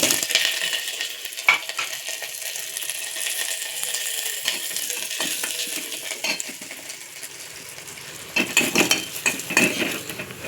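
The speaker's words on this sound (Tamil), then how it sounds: "இப்போ ரசம் தாளிச்சிடலாம். இது வந்து காஞ்ச மிளகாய், கடுகு" Dried chillies and mustard seeds tempering in hot oil for rasam, with a loud, steady sizzle and crackle, metal spoon scrapes and clinks, and a burst of louder spluttering near the end.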